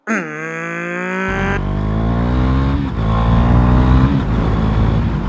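A motorcycle pulls away and accelerates hard, the engine's whine climbing in pitch before a gear change drops it into a loud, deep, sustained roar close by, with wind rush throughout.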